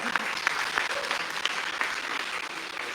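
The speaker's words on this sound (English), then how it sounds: "Yeah, big applause for Sofia, everyone." Audience applause filling a theatre hall during a pitch event: dense, steady clapping from a sizeable crowd, loud and continuous throughout with a few sharper claps standing out.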